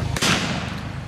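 A single sharp gunshot cracks out at a frontier festival reenactment with mountain men and cowboys, a loud bang that trails off into outdoor crowd ambience.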